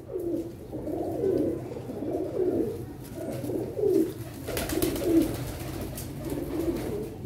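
Teddy pigeons coo steadily in low, throaty rolling phrases, several birds overlapping close by, continuous with no talking.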